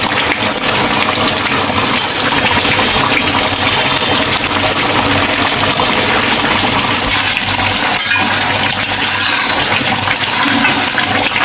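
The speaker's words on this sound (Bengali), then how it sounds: "আমি কিন্তু এই যে নেড়ে চেড়ে নিচ্ছি।" Mutton curry being stirred in a cooking pot with whole garlic cloves as the sauce cooks down, giving a steady, dense bed of scraping, bubbling and clinking kitchen noise throughout with no talk.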